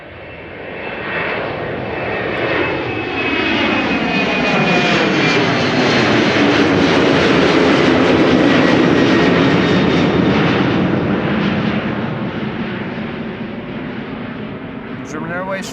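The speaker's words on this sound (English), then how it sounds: "Two Embraer 190s first. The first one is already rotating and has left the ground." An Embraer 190 jet takes off at Amsterdam Schiphol, its engine roar swelling to a loud, sustained rush with a sweeping whine, then easing slightly as it climbs away, with a voice talking over it.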